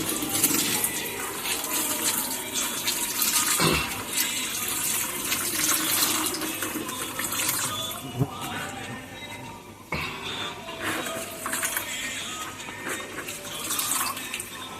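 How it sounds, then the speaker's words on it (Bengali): Turmeric-tinted water poured slowly over kitchen waste for compost, a continuous close splashing and trickling of liquid with small bumps of handling throughout. "এই হলুদ মিশ্রিত জলটিকে ধীরে ধীরে এর ওপরে দিয়ে হাত দিয়ে চাপ প্রয়োগ করতে হবে"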